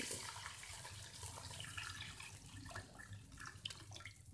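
Water, about 1.5 litres, poured steadily into a cooking pot holding half a kilo of chicken for chicken corn soup, a continuous soft splashing and rushing with no talk.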